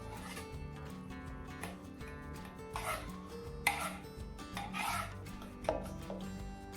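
Sprouts pav bhaji vegetables, softened with a little warm water, are mashed in a pan with steady rubbing, squishing scrapes and a few sharper knocks, fairly close, over continuous background music.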